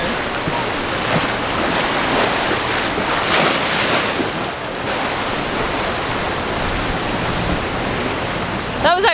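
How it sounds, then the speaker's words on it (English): Choppy sea waves slapping around a sailboat crossing the Strait of Messina, a loud continuous wash of surf and wind rushing across the microphone, with a voice faintly present. "all of a sudden we just see this choppy patch coming towards us"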